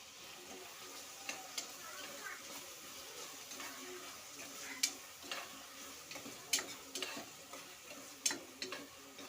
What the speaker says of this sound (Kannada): ಇದಿಷ್ಟನ್ನು ಫ್ರೈ ಮಾಡ್ಕೋಬೇಕು ನೋಡಿ ಫ್ರೈ ಆಗಿದೆ ಚೆನ್ನಾಗೆಲ್ಲ ಬೆಂದಿದೆ